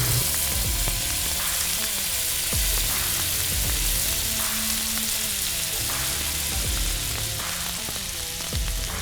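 Butter melts in a pan with carrots, a loud continuous sizzle with scattered pops and faint clinks of the pan throughout.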